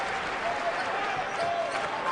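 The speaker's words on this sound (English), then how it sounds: "here comes the crowd" Crowd roar fills a college basketball arena at a Temple versus Bucknell NIT first-round game, a steady, dense wash of cheering with no breaks, loud and sustained throughout.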